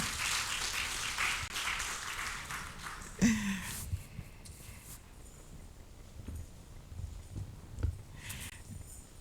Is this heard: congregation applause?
yes